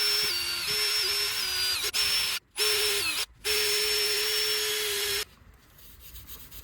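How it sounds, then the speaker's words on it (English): A drill fitted with a wire brush adapter scrubs a wheel hub surface, giving a steady close grinding whine. It cuts out briefly twice, then stops near the end. "So use a wire brush adapter in your drill and clean the hub surface."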